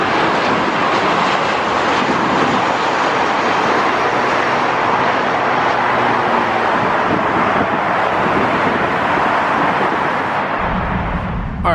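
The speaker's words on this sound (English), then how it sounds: "Airplanes." A loud, steady airplane engine roar with wind rushing over the microphone, holding constant for several seconds before cutting to a lower rumble.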